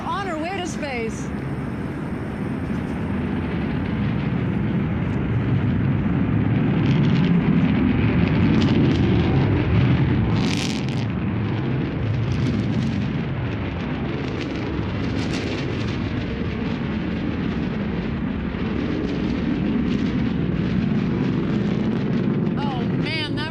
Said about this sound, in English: that roar gets me every single time as she exits the valley on the way up to space